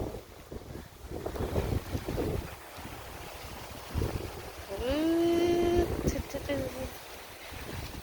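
Strong wind gusts through a home garden in the evening, rumbling and buffeting the microphone in uneven waves. Someone talks over the wind, and a brief whistling tone rises partway through.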